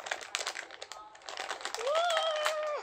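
A plastic wrapper around gumballs crinkles and crackles up close as it is pulled open, in quick irregular bursts, joined near the end by a rising, whining squeak.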